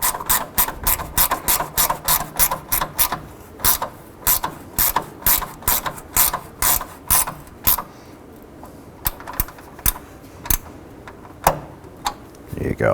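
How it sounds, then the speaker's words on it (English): A ratchet snugs up the bolts on a radiator in a 2007-2011 Honda Civic, a rapid series of close clicking bursts in quick rhythm, then slower scattered clicks toward the end. "we're going to go ahead and snug up these bolts"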